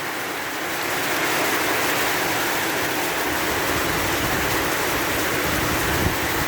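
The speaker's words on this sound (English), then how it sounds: "Rain like that, man." Heavy rain pours down in a continuous close wash of hiss, swelling slightly after the first second and holding steady, with no talking.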